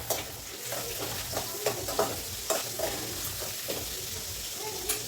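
Bitter gourd frying in a pan gives a close, steady crackling sizzle broken by repeated stirring scrapes and soft knocks of a spoon against the pan.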